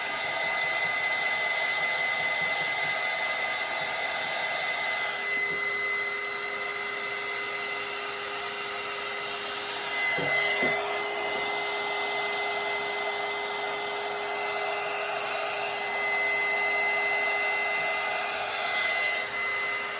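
A heat gun blows over an epoxy tumbler with a steady, loud mechanical whir and airflow hum, continuous throughout with slight shifts in tone as it moves.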